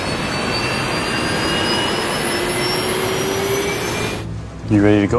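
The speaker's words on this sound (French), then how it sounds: "Le son des moteurs devrait donc révéler quelle puissance ils fournissaient." Steady, loud roar of Boeing 737 jet engines with whining turbine tones drawn out over several seconds, ending abruptly before a voice speaks.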